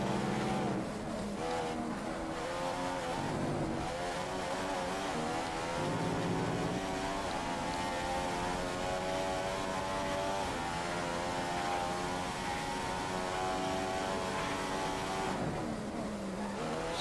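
The race car engine in F1 2015 on the Bahrain circuit drones loud and continuous with shifting pitch as the car runs low on fuel. A rough, strained tone runs throughout.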